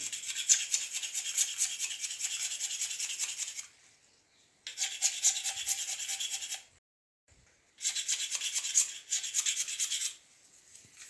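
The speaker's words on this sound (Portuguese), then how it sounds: "como eu estou tirando a sílica do bambu, que é essa pelinha" Three bursts of dry, rasping scraping as the silica skin is stripped from bamboo for instrument making, each lasting a few seconds with brief pauses between, close and moderately loud.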